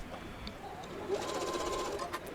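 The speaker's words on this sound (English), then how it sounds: "back stitching and sewing across" A sewing machine back-stitches and sews across a fabric insulated tote bag, a steady, fairly quiet mechanical whirr running throughout with no talking.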